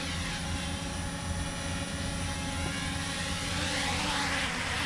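S119 brushless foldable drone lifting off on automatic takeoff, a steady close propeller whine with a high buzzing hum and rising tonal sweep near the end, continuous and loud with no talking.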